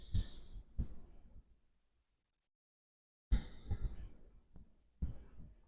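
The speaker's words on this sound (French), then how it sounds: "on va prendre des grandes respirations par le nez" Deep breaths are drawn through the nose during a postpartum breathing exercise. Two slow, close breaths are separated by a silent pause, with no talking.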